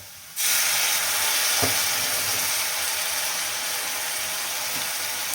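Tomatoes, green chillies and garlic drop into hot oil in a pan and start sizzling loudly at once, a close, steady crackling hiss that continues without pause.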